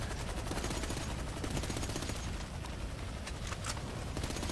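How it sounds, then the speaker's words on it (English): Continuous gunfire in GTA 5 rattles on without pause, rapid machine-gun-like bursts and scattered shots forming a dense, steady barrage with no talking. "Who's shooting me?"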